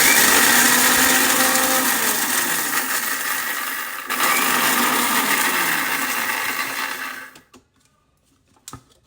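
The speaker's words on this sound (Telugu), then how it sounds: "దీన్ని ఇప్పుడు మిక్సీ పట్టుకోవాలండి" A mixer grinder whirs loudly and steadily for about seven seconds, then cuts off, leaving near silence broken by a couple of faint clicks.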